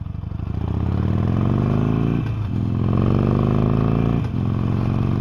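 A Harley-Davidson Sportster 48 from 2020 rumbles loudly and steadily while being ridden, with two brief dips in the engine note as gears are shifted, no talking over it.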